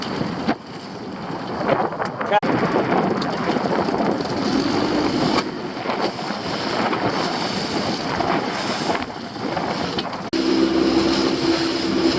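Steady wind buffets a small fishing boat at sea on a windy day, a continuous broadband rush with gusty swells and a low droning tone near the end, loud and close with no talking.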